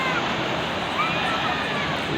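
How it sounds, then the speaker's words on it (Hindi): Rough sea surf at Manora beach, a continuous dense roar of strong waves churning close by, with no let-up. "पानी में लहर बहुत है, ज़ोर बहुत है"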